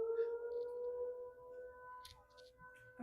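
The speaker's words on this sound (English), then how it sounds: "I guess they do tornado sirens over there." Tornado siren being tested on a Sunday, a steady faint wailing tone held from a distance, with small scattered background noises.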